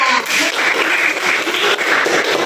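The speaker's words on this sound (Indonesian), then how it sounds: "Tepuk tangan untuk kelompok 3." A classroom of students claps enthusiastically after a group presentation, a loud, continuous wash of applause that stays even throughout.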